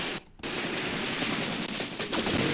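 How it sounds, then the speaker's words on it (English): Sustained automatic gunfire from a WWII tactical battle in the game Graviteam Tactics: Mius Front, a dense, continuous rattle of rapid shots with a brief lull near the start, fairly loud and without talk. "start opening fire on the enemy targets here."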